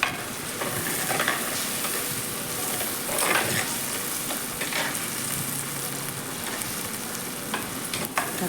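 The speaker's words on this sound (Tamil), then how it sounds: "தக்காளி நல்லா வதங்கணும்." Tomatoes sizzle steadily in hot oil in a pan for a village-style fish curry, with occasional scraping strokes of a stirring spoon throughout and no voices.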